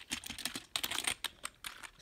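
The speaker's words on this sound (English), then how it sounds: "Very nice keyboard. Mechanical, it's a biotech mechanical" Rapid, uneven clacking of keys on a mechanical gaming keyboard, heard close up and alone as a steady burst of typing in a bedroom gaming setup.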